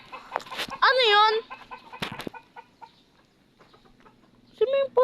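A chicken clucks in a few short, harmonic bursts close by, with a person talking quietly in between.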